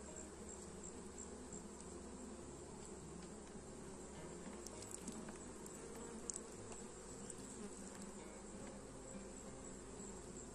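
Honey bees hum in a dense, steady buzz close by, with a few brief louder passes standing out from the swarm.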